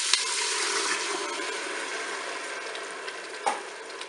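A Cookeo multicooker with a beef roast browning and onions inside gives off a steady, fairly loud sizzle and fry throughout, with a brief splash and hiss near the end as broth is poured in.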